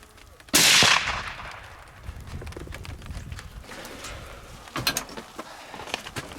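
A single loud rifle shot cracks out near the start during a deer hunt, then fades into quieter outdoor noise with scattered rustles and small knocks.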